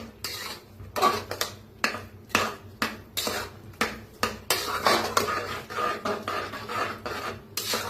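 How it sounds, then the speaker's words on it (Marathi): A thickening mix of cooked dal and mango pulp stirred in a pot, heard as a steady rhythm of close, loud rasping scrapes against the metal, roughly two strokes per second. "असं हलवतच शिजवून घ्यायचं घट्ट असं."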